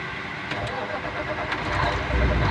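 A truck engine cranks and catches during a CDL pre-trip inspection in Oklahoma, a continuous near rumble that swells louder toward the end, with light background noise over it.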